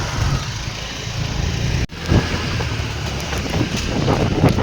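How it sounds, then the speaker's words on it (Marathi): A motor scooter rides through Pattaya streets, its engine droning steadily under heavy wind rush with a brief dropout midway. "चलो बाईक राईड इन पटाया"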